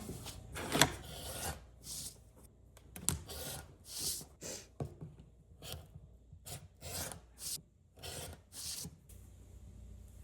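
Rotary cutter or blade trimming a paper-pieced quilt block, heard as a series of short rasping strokes with quiet gaps between, close and soft, with no speech.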